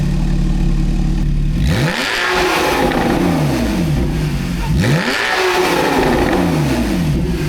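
Porsche 911 991 with a valved titanium Akrapovic exhaust revs hard twice, each blip sweeping up and falling back from a loud, steady idle, close by with no talking.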